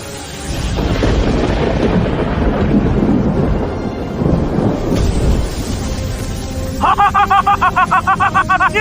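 Thunderstorm in an animated cultivation series: deep, loud rolling thunder rumbles for several seconds, then a sharp rhythmic crackling pulse takes over near the end.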